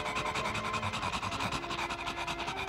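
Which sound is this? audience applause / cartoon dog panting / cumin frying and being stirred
cartoon dog panting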